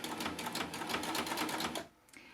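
A coverstitch machine fitted with a plain hemmer foot sews a hem, running in a fast, steady mechanical chatter close by for most of the clip before stopping.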